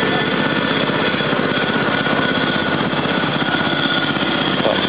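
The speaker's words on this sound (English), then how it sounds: "Just getting the tractor started, eh?" An old tractor engine starting at an annual tractor and steam engine show in Alpena, Michigan, giving a loud, steady, rapid mechanical chatter that fills the whole stretch.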